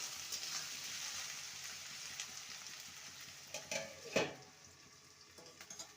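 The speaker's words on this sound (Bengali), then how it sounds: "আলুটাকে 2 থেকে 3 মিনিট ভালো করে ভেজে নেব, তারপর ভেন্ডিটাকে দেব।" Potato pieces frying in a pan, a soft continuous sizzle with a few scrapes and clinks of a spatula toward the end, quiet and close.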